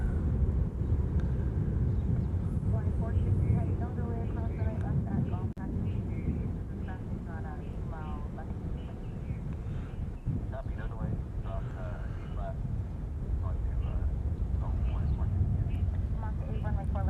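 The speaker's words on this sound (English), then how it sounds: "The latest rotation I've ever seen on a C-17." A C-17 military transport jet taking off from Honolulu airport, a long low roar building and holding at a distance, with people talking over it throughout.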